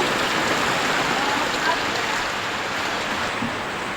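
Heavy rain pours steadily over rising floodwater that has entered a house, a dense, even hiss of water filling the whole stretch with little variation.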